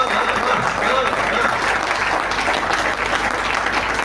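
Audience at a kavi sammelan poetry recital clapping in a dense, steady wave of applause that fills the whole stretch, loud and close, with a voice faintly audible underneath.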